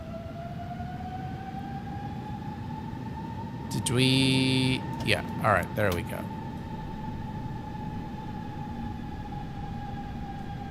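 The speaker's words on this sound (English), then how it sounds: "Listen to those engine sounds." Engines of a default aircraft in the flight simulator game X-Plane 12.3.0 beta hold a steady, continuous whine and hum throughout, with a person briefly talking partway through.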